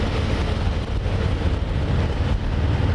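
A 2018 Harley-Davidson Fat Boy cruising on the freeway produces a steady low engine drone blended with rushing wind noise, with no talk.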